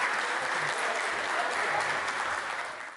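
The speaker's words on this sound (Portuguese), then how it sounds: "palmas para os Lenhadores" Audience applause at a farewell ceremony for the president of a social club in Paudalho, Pernambuco, a steady, dense wash of clapping from a crowd that fades slightly at the end.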